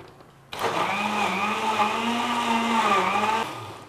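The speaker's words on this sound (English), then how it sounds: "close up my blender, and it's time to blitz" A kitchen blender blitzes tomatoes, two garlic cloves and ginger, starting abruptly with a loud steady motor whine that holds for about three seconds before cutting off, with no talking.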